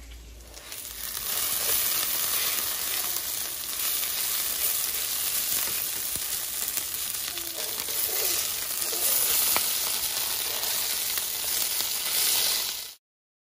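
Breakfast sizzles steadily in a skillet, a dense continuous frying hiss with occasional stirring scrapes, close and fairly loud, running alone without talk.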